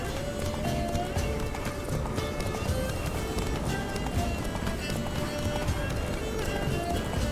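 Horse hooves gallop in a rapid, steady clip-clop in The Witcher 3 video game, close and continuous, with occasional snorting and voices in the game mix.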